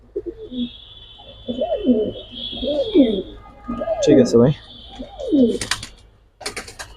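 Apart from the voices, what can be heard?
silver military Jabra Pankhi pigeons cooing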